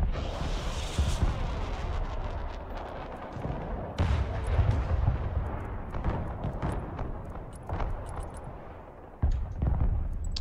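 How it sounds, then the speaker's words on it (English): A missile strike in the military strategy game Broken Arrow lands as heavy, booming explosions with sharp onsets, one midway and another near the end, amid a continuous rumble of battle and gunfire. "I'm gonna drop a missile."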